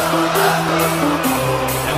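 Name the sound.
concert crowd singing along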